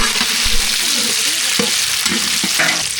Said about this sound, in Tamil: அதுக்குள்ளே கருவேப்பிலை சேர்த்துக்கலாம் இது கூட பச்சை மிளகாய் போட்டுக்கலாம் மிளகாய் சேர்த்தாச்சு நல்லா வதக்கி விட்டுக்கலாம்